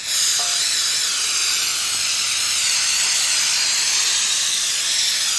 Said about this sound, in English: let's clean that up with some carburetor cleaner